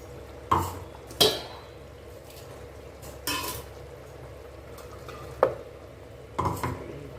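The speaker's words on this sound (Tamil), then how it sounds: "இப்போ நம்ம அரைச்சி வச்ச தேங்காவை சேர்த்துக்கிறோம்" Ground coconut paste is added to a simmering salna gravy in a metal pot, with several sharp spoon clinks and scrapes against the vessel over a soft bubbling background, and no talking.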